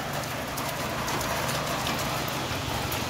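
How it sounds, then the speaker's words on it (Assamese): Steady rain pours down outdoors in a dense, even hiss that stays constant and fairly close throughout, with no talking. "ধুনীয়া বৰষুণ আহিল"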